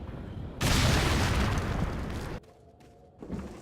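A grenade shot and blown up in Resident Evil 4 gives a loud, sudden boom that swells into a long roaring rumble, then cuts out and leaves a quieter tail before another smaller burst.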